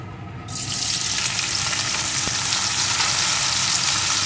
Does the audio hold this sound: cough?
no